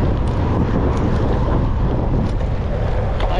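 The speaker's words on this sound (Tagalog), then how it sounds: "Lakas ng hangin mga master." Strong wind gusting into the microphone while cycling on a mountain road in North Luzon, a loud, steady roar with buffeting that fills the entire stretch.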